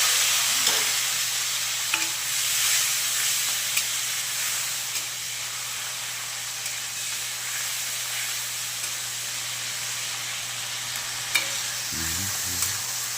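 Chopped tomatoes sautéing in oil with nigella seeds and slit green chillies in a pan: a steady close hiss of frying with occasional stirring knocks and scrapes throughout, no voices.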